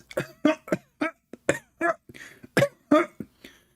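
A voice imitates a woman's cough: a rapid series of about ten short, sharp coughing bursts, close and fairly loud.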